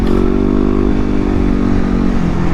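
A 2016 Yamaha WR250R motorcycle engine runs loud and close while being ridden, a steady, even drone with no talking over it.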